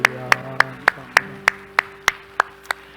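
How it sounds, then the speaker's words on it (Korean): A church congregation claps in a steady, even rhythm, roughly three sharp hand claps per second, close and distinct, with faint voices and a sustained tone underneath. "우리 하나님께 영광을 박수합시다"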